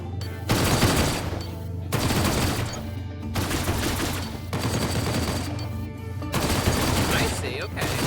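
Rapid linked-fire weapon bursts in a space combat video game, loud and sustained in several volleys with short gaps, layered over continuous game music and effects.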